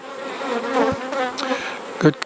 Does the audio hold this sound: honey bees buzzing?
yes